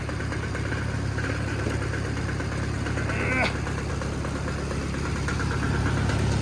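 The engine of a 1954 Lincoln SA200 welder runs at a steady, loud, rough idle with a constant knocking thrum and a brief metallic rattle midway, close up, while someone talks over it.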